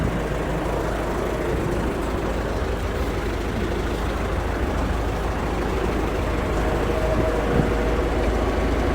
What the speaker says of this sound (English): can we move it just a little bit forward and backwards so they can see the chain move